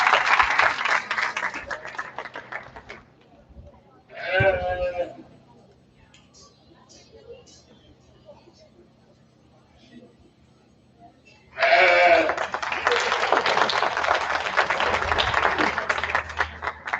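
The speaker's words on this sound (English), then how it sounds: "please give a round of applause for all these kids." Two bursts of clapping from a crowd at a 4-H county fair lamb and goat show: a brief one, then a quieter stretch with faint bleats and murmuring, then a longer sustained round of applause.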